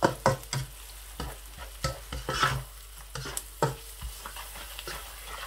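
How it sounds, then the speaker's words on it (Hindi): Okra curry ingredients, with a tablespoon of salt just added, being stirred and mixed in a pan: repeated scraping strokes of a spoon against the pan with a soft sizzle underneath, close and fairly quiet, with no talking. "अच्छी तरह से इन तमाम चीज़ों को मैं इस तरह से मिक्स कर लूँगा।"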